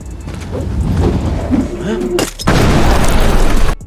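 A mine blown up in a war film, heard as heavy rumbling booms with a sharp, loud burst partway through, followed by a sustained roaring blast.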